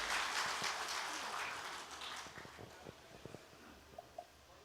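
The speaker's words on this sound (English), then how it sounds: "Please give them another round of applause, everyone" An audience applauds singers at the closing session of an international conference, with a broad wash of clapping that gradually fades and leaves a few scattered claps at the end.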